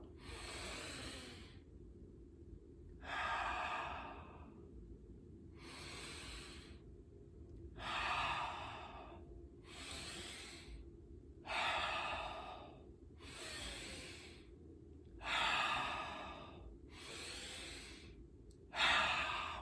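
Tantra breathing through the mouth, with about eight slow, even inhales and exhales as loud airy rushes close to the listener, separated by short pauses over faint room hum.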